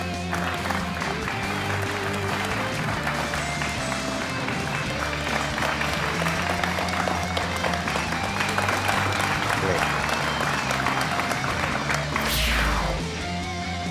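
Audience applause for the teams at the Mahindra AQ quiz West Zone Final, a steady loud wash of clapping under music with a rising sweep near the end.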